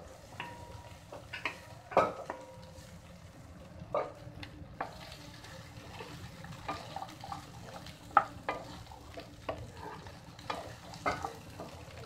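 Spiced okra curry fries and sizzles in a pan while a utensil stirs and scrapes it in irregular clicks, a steady close sizzle running underneath, with no talking.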